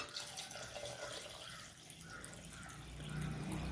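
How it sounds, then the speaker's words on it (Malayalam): Water pours into a Kerala-style fish curry in a pot as a soft, continuous stream that swells slightly near the end. It is faint, with no talking. "ഇനി നമുക്കിതിലേക്ക് പാകത്തിനുള്ള വെള്ളം ഒഴിച്ചു കൊടുക്കാം."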